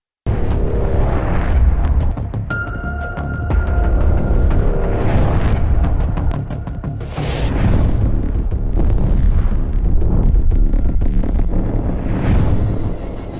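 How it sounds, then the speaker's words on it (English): Benelli M3 Super shotgun firing in the video game Combat Master, a run of loud booming blasts spaced a second or two apart, each with a rumbling tail, heard alone without speech. "If you're looking for a weapon that can clear a room in a single shot, this shotgun is a must-have in your arsenal."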